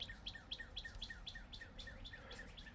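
Birds chirp and sing beneath a giant oak tree in a city, repeated high tweets in a steady rhythm over a low background rumble, faint and somewhat distant.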